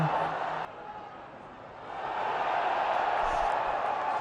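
Cricket crowd at the 2022 Pakistan vs England third Test in Pakistan reacting to a big-screen decision, a broad, steady roar that dips briefly, then swells and holds loud.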